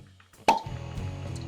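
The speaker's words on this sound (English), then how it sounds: "So let's pop this bottle open and do a little pour." A single sharp cork pop from an Old Forester 1924 bourbon bottle, followed by a faint low rumble of handling afterward; no talking.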